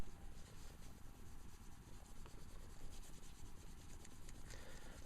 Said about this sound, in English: I'm using a little Brasso on them to polish them up